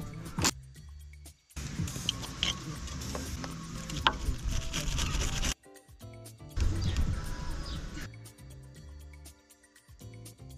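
A wire brush scrubbing parts during an engine swap on a Ducato van: bursts of harsh, gritty scraping, each lasting a few seconds and separated by short pauses and clicks.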